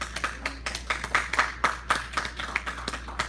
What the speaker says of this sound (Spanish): Un fuerte aplauso al Rey.